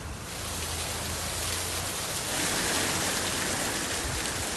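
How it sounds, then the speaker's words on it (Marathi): Heavy monsoon downpour in Vasai Virar, a dense, steady hiss of rain pouring continuously and loudly with no gaps, swelling slightly midway. "वसई विरारमध्ये सुद्धा मुसळधार पाऊस सुरू"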